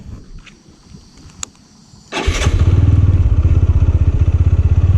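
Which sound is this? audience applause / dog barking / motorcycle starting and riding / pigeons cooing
motorcycle starting and riding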